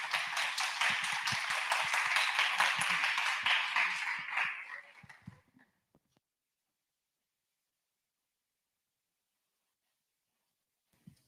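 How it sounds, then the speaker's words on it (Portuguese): Audience applause for someone speaker at a tech talk, a dense run of clapping that fades out after about five seconds, followed by near silence. "Aplausos, por favor, para a palestrante."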